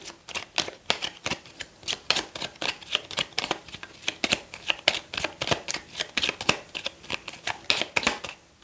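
Tarot cards being shuffled by hand, a rapid run of crisp papery riffles and flutters repeating steadily throughout, close and clear with no talking.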